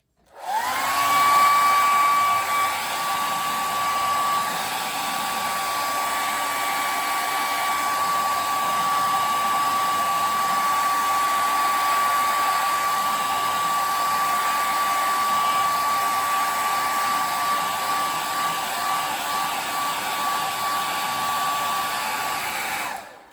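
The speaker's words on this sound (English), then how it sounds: "Whenever that happens, you just use your blow dryer." A blow dryer runs continuously on wet paint during a painting class, a steady loud whirring hiss with a constant whine, switching on at the start and off at the end, with no talking.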